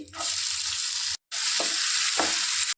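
Onions, chana dal, mustard seeds, cumin and curry leaves frying in oil for a Guntur-style ivy gourd and coconut fry, a loud, steady close-up sizzle with a brief cut and a couple of stirring scrapes.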